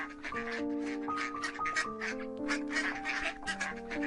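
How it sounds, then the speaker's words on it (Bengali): Ducklings quack in a steady, overlapping chorus, with many short, bright calls repeating close by throughout. "হাঁসের বাচ্চাগুলোকে ছেড়ে দেয় পোকামাকড় খাওয়ানোর জন্য"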